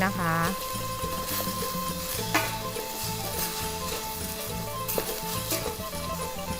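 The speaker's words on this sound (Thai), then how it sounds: "เราก็ผัดให้เขาหอมเลยค่ะ" Minced pork chili paste stir-fried with ground chili powder, a steady close sizzle with spatula stirring and scraping throughout, under continuous talk.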